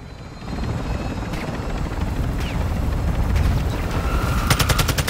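In Call of Duty, a helicopter drones steadily with a loud, low rotor rumble, joined by bursts of automatic gunfire and sharp single shots toward the end.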